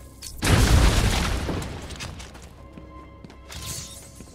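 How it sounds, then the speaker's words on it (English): Explosive gel detonating through a weak wall in Batman: Arkham Asylum, a single loud booming blast that cuts in sharply and then rumbles and crumbles away, with debris settling and a faint second swell near the end. "The wall ahead is weak enough for my explosive gel to blow through and open up a new path."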